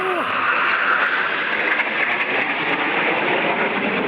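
A loud, steady jet roar fills the air as a Kenya Air Force jet makes a close display flyby, the broadband rush holding throughout.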